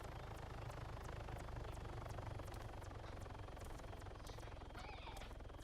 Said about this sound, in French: Ah, hélico.